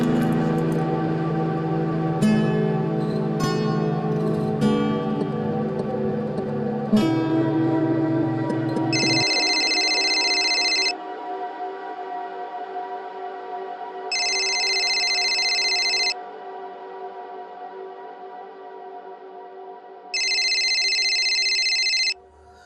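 A phone rings with an incoming call in a quiet indoor room: electronic ringtone bursts repeat three times with pauses between, loud and close, after some earlier background sound fades out.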